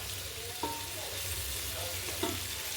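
Onions fry quietly in a pan for an egg biryani, giving a soft, steady sizzle with a couple of faint scrapes from stirring.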